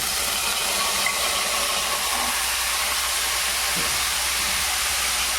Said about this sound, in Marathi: ह्या तुपात आपल्याला हे रताळा टाकून घ्यायचं